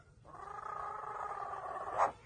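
A pet parrot mimics a cat's meow, a single drawn-out, tonal miaow-like call of about two seconds that ends in a brighter rising burst, heard alone and close up.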